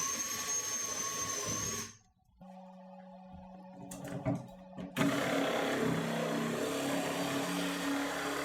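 Power drill boring starter holes for a jigsaw during a kitchen remodel while lower cabinets go in, heard as loud steady whirring bursts, near, with a short quiet gap and a clattering pause before the drilling resumes.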